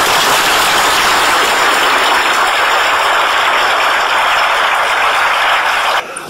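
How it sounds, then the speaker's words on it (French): Audience applause for the town council at an inauguration event in Pertuis, a dense, steady wash of clapping that continues loud for about six seconds and then cuts off abruptly. "j'aimerais que tout le monde applaudisse le conseil municipal, mais en particulier Roger"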